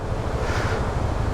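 Steady broadband rush of a tall multi-tiered waterfall heard outdoors, a constant even roar with no breaks and no voices.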